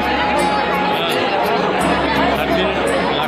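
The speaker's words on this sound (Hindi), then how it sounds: "माँ का मंदिर कितना भीड़ है देखिए" A dense crowd fills a busy Hindu mother-goddess temple with steady, close babble of many overlapping voices, unbroken from start to finish.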